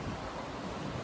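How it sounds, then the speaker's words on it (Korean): Ocean waves washing onto a beach: a brief, dense, even roar of surf mixed with wind buffeting the microphone, continuous and fairly loud with no voices. "파도 소리 때문에 잘 들리려나?"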